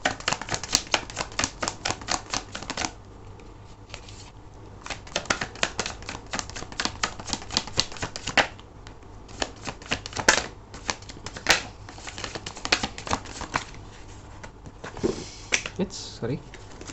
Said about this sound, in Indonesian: Aku akan ambil 5 kartu ya